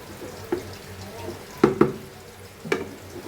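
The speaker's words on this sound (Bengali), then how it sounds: "জাস্ট নেড়ে চেড়ে আবার ঢাকনা দিয়ে ঢেকে দিব" Spoon stirring khichuri in a cooking pot, a few scraping clinks over a soft bubbling simmer, with a faint voice in the background.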